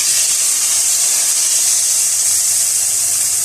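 Cumin tempering sizzling and hissing steadily as the hot tadka is poured over kadhi, a loud continuous bright crackle with no pause.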